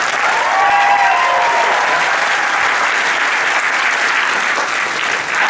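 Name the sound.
audience round of applause at convention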